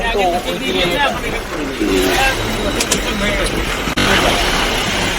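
A car drives along a road and overtakes on the way out toward Siliguri Junction, giving a steady engine and road rumble throughout, with people chattering inside the vehicle.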